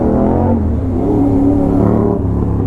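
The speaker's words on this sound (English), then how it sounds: "the SC Project full system titanium exhaust on the Aprilia RS 660" An Aprilia RS 660 motorcycle fitted with an SC Project full titanium exhaust system revs hard, giving a loud, close, continuous engine roar with shifting pitch and no talking.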